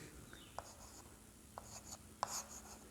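Chalk or marker writing a word on a board in a classroom, with faint, brief scratching strokes and taps, quiet and close, with low room noise between them.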